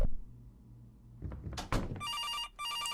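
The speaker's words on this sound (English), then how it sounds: "the phone's ringing" A telephone rings in the RPG Maker horror game From Next Door, a close electronic ring that starts after a few soft thumps and repeats in two bursts.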